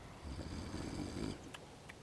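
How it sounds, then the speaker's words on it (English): Snoring from a drunk character in Tainted Grail, a low, raspy drawn-out breath at moderate level over a faint ambient background, followed by a couple of brief clicks. "Drunk snoring."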